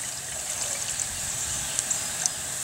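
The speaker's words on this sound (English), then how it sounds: "I'm going to take my empty can here and I'm going to pour some of this melted wax in here" Melted golf wax pours into an empty can as a soft, steady trickle, faint and even, with a few small splashy ticks near the end.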